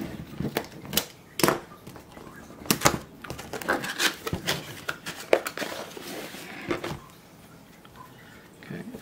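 An Akunbem water flosser box being opened up close: sharp cardboard taps, clicks and rustling of packaging in irregular bursts, quieter toward the end.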